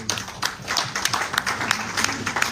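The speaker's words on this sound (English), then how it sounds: "So give yourselves a round of applause." An audience at a faith-and-community keynote summit applauds itself, with scattered, uneven claps of a modest crowd in a hall, fairly close and steady for a couple of seconds.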